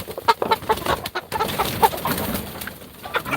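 Chickens inside a coop cluck and murmur in a busy, overlapping chorus with scattered shuffling, close by and moderately loud, with no talk.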